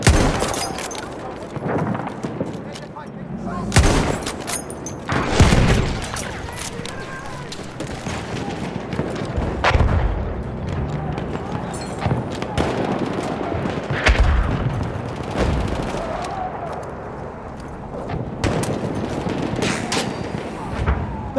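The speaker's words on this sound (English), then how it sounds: "Enemy machine gun sighted!" Machine gun fire in a Battlefield 1 Conquest match: rapid bursts of automatic shots mixed with booms and distant gunfire, continuous battle din with voices calling out over it.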